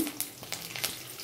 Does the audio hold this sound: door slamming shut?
no